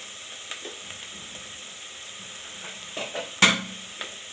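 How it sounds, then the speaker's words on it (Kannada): Onions frying in a hot pan while being stirred for pulao, with a low steady sizzle and a few close scrape and clink sounds. One sharper metallic knock comes near the end. "ಹಾಗೆ ಕಾವು ಜಾಸ್ತಿ ಇಟ್ಕೊಳ್ಳಿ. ಹಾಗೆ ತಿರುಗಿಸ್ಕೊಡ್ಬೇಕು."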